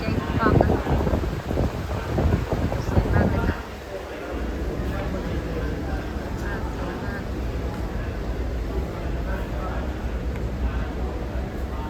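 A large fan blows cool air at a Thai temple in Nakhon Nayok, a steady rushing roar close to the microphone that is heavier for the first few seconds, then settles into an even whoosh.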